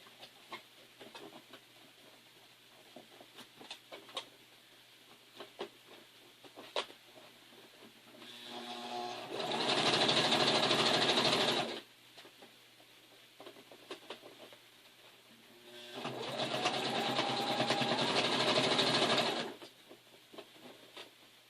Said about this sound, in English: we're going to fold this over this way and sew it down.